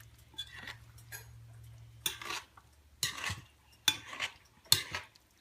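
Cornbread batter stirred in a bowl, a soft scraping swish repeated in uneven strokes with a few louder knocks of the spoon against the bowl, close but quiet, with no talking.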